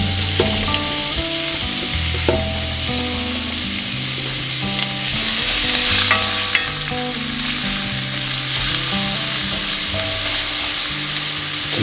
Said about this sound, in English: Okay, I'm going to add in the onion.